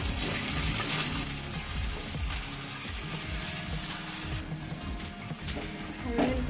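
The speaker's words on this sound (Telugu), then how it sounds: "ఉల్లిపాయలు బాగా వేగాక కొంచెం అల్లం వెల్లిపాయ పేస్ట్ చేసుకోండి" Onions frying in a pan with ginger garlic paste, giving a steady, loud sizzle and crackle throughout, with a voice talking over it at times.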